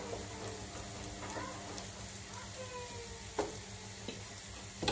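Garlic sizzles in a hot pan while pancit is being cooked, a steady close frying crackle with occasional stirring scrapes and clinks of a utensil.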